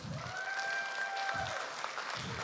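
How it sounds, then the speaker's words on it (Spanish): Applause at a church gathering, a moderate, steady patter of crowd clapping with a sustained tonal sound, like music or feedback, running through part of it. "Den un aplauso a Jessica y Aarón"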